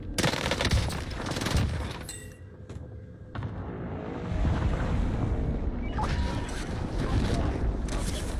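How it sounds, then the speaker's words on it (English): Gunfire in the Warzone video game, with a loud burst of shots up front, then further bursts and a sustained rumble of firing and ambient battle noise, with some wind-like hiss mixed in. "This guy's shooting me around the fucking corner."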